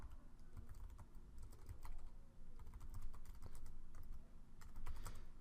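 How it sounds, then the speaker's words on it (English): Steady clicking of computer keyboard keys being typed, close and continuous with brief pauses, over a low background hum. "So I'm typing in a title"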